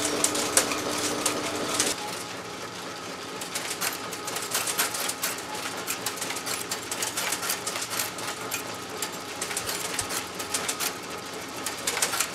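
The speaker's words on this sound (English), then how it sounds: "The machine trims off the slug that's been cast and ejects it right down here." A Linotype typecasting machine runs steadily, filling the space with dense rapid mechanical clattering, ticking and clanking at close range, with irregular sharper knocks throughout.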